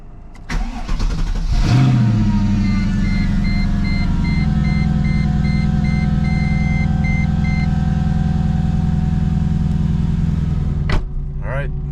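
Mercedes C55 AMG engine cranking and catching, then settling into a loud, steady idle heard up close, after a crankshaft position sensor replacement with a lingering fault.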